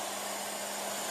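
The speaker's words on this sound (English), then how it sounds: "Blow drying my hair." A bonnet hair dryer blowing on natural hair, a steady, constant airy whir held close and even throughout, with no talk.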